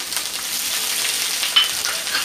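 Whole spices fry in hot oil with chili, ginger and garlic paste over the gas flame for vegetable biryani, a close, steady crackling sizzle with small spits and pops throughout.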